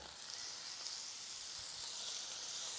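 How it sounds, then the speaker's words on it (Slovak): Meat sizzles in sunflower oil in a frying pan, a steady quiet hiss that runs on alone without letting up. "Pokvapkam obyčajným olejom, teda slnečnicovým, a dám mäso opekať."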